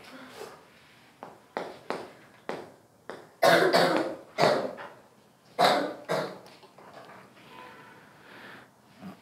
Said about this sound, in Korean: 집에 가려고 기침해